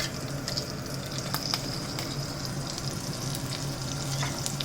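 Slit green chilies sizzle in hot oil as the first step of a masala dal: a close, steady, crackling fry that holds evenly throughout with no talking.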